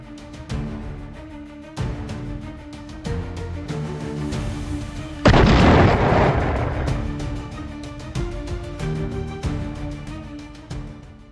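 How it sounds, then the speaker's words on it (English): A Russian Iskander M ballistic missile strikes and destroys a HIMARS launcher: a sudden loud, broad blast erupts midway, roars, then slowly decays over a couple of seconds against continuous background music. "HIMARS launcher moments before it was destroyed by a Russian Iskander M ballistic missile"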